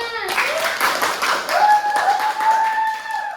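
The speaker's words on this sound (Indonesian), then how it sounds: "beri tepuk tangan yang meriah semuanya" Applause for a school class kebaya fashion-show performance: a crowd of students claps in quick bursts while voices call out and sing over the clapping.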